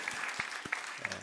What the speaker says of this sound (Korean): 여러분 박수 많이 해주세요